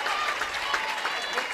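Crowd at Alumni Field roaring and applauding during an NCAA softball tournament game, Michigan versus James Madison, a dense steady wash of clapping and cheering from many fans.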